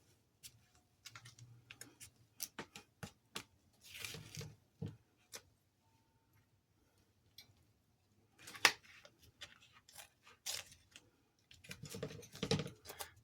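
Tape is pulled and pressed down onto the fabric of a cloth doll, heard as scattered sharp ticks and short crackly strips with quiet pauses between them.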